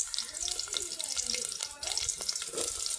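Chopped garlic, sliced green chili and onion frying together in a pan, a steady loud sizzle with crackling oil throughout, close by, and no pauses.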